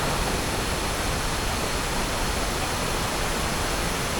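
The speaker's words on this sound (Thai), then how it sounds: "เห็นไหมครับ น้ำตก" Waterfall beside a rainy-season campsite at Bamboo Creek in Thong Pha Phum, a steady, loud broadband rush of falling water heard up close with no other sounds.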